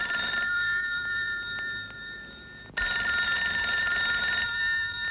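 An old telephone bell rings in repeated bursts, loud and close, in a 1987 Indonesian comedy film, breaking off briefly before sounding again.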